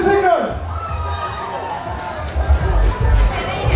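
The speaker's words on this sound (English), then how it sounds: "Give him a round of applause." Crowd at a 2013 Labour Day concert in Antigua: a roaring, cheering mass of voices swelling in bursts over a heavy low rumble, with shouting voices and an amplified voice in between.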